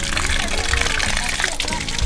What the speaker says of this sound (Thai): ล้างตีนล้างมือนิดนึงกันค่อนข้างเปื้อนเพราะว่าอยู่ใต้ดินมานาน